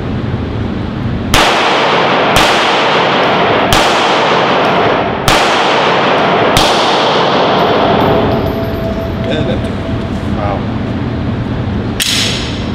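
Pistol shots fired at an outdoor range, about six sharp loud reports spaced a second or so apart, each with a short ringing decay, under a steady background hiss.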